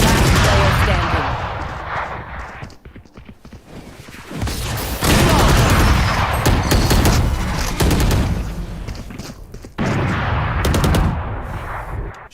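Repeated video-game gunfire in rapid bursts and sustained automatic fire, loud and close, with brief pauses between volleys and a voice talking at times underneath.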